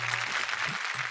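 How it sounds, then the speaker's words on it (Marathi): A brief burst of audience applause from a television show crowd, a dense wash of clapping that fills the whole short moment at moderate loudness. "जोरदार टाळ्या होऊन जाऊ दे"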